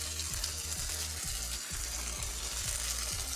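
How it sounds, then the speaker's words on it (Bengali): Garam masala powder fries in hot oil with onion, garlic and ginger for a cauliflower filling, giving a steady close sizzle with soft rhythmic pulses and no voices. "মশলার গন্ধটা থেকে যায় গরম মশলার, ওই জন্য আমি তেলে ভেজে নিলাম।"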